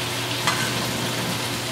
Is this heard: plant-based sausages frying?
yes